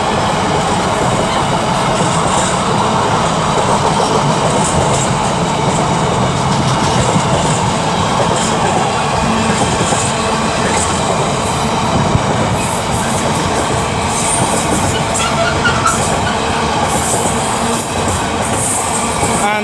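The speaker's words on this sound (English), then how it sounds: "And 221-130 is also departing with the 1922 cross-country service to Bournemouth." A cross-country service train departs Stafford station on the West Coast Main Line, producing a loud, continuous rumble and rolling wheel noise with a faint squeal, steady throughout and close by.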